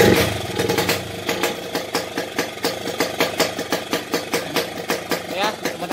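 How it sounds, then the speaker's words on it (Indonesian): A Yamaha RX King two-stroke motorcycle with a rich carburetor setting idles and revs, its exhaust popping and burbling in a loud, close, uneven pulsing rhythm, while someone talks over it. "soalnya kalau dikasih basah ya begini knalpotnya"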